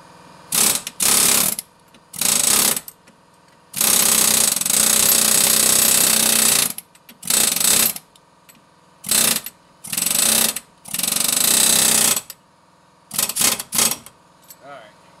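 Impact gun driving bolts during a strut replacement, loud rapid hammering bursts of varying length, about a dozen, separated by quiet gaps.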